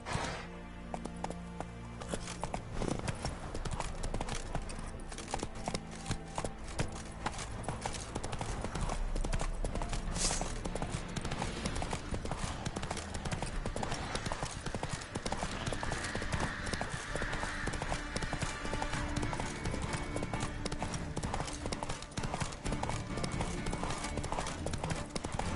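Roach, a horse in the game The Witcher 3, gallops steadily with a continuous, fast clip-clop of hooves that fills the whole stretch, sounding close and carried along over a constant bed of game music and ambience.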